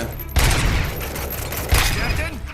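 Bursts of gunfire aimed at armored eggs in the video game RoboCop: Rogue City: two heavy volleys of close, loud shots with rattling fire between them.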